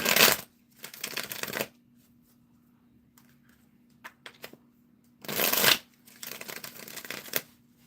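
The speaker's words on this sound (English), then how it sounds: "3 shuffles and 3 cuts." Two bursts of crisp riffling as a deck of tarot cards is shuffled, separated by quiet pauses with a few soft taps and handling sounds, close up.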